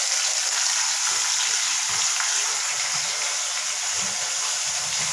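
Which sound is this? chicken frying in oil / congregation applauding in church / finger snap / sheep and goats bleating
chicken frying in oil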